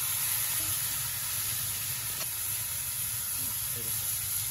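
Water poured into a hot pan of koi and jeol fish curry gives a continuous, even sizzling hiss with steam, holding steady throughout with faint clinks underneath.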